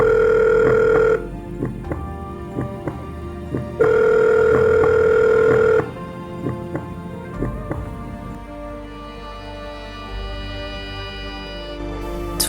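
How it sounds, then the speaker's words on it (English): An emergency phone call is placed: two long steady ringback tones, each followed by a run of short dialing beeps and clicks, then quieter tapping to the end, with no voices. "We are calling by phone the strategically most vital offices."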